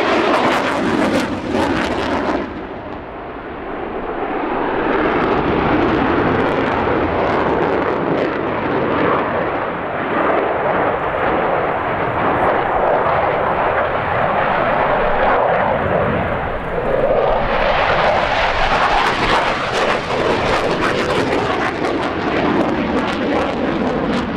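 A Polish Air Force MiG-29 jet fighter flies an airshow demonstration in 2012. The jet roar is loud and continuous, swells as it passes, and ends in a rising, hissing surge.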